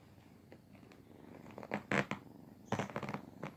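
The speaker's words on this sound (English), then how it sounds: "So this is Pastulio, their adorable baby kitty" A kitten purring close by, a soft continuous rumble with louder rasping bursts toward the end. No one speaks.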